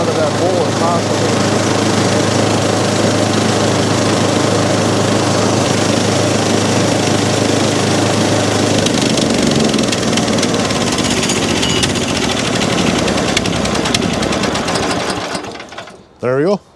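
A small engine on a wood mill runs loud and steady with a rattling buzz while its fuel is used up. The low hum drops away partway through and the engine sputters to a stop near the end.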